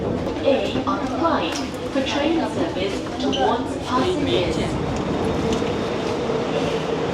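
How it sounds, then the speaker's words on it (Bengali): A Singapore MRT train arrives at Tanah Merah station, bound for Tuas Link. A steady, close rumble of wheels and motors fills the platform, with indistinct voices murmuring beneath it. "দেখুন ট্রেনটা এসে গেছে"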